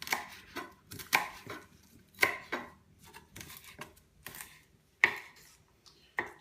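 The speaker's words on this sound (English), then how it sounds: "You need to chop the parsley finely, which I am doing here, better than any machine." A knife chops parsley finely on a board in a string of crisp, irregular thuds spaced about half a second apart, close and fairly quiet, with no talking.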